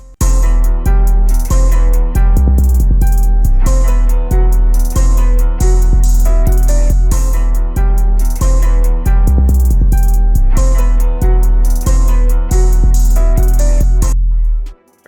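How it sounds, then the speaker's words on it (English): A hip-hop drum beat loops steadily with punchy kicks and crisp hi-hats over a melodic backing, loud and continuous until it cuts off near the end. "So then with the drums, it sounds like this here."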